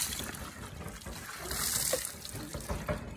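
Water trickles and splashes gently into a drinking-water tank on a farm, a soft, continuous flow heard from a moderate distance with a faint outdoor background.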